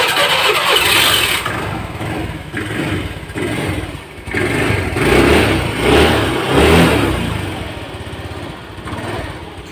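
An automatic scooter's engine is started and revved, a loud close buzzing motor that rises and falls in several throttle surges, steady and unbroken throughout, with no talk.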